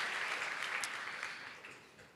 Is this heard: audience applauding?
yes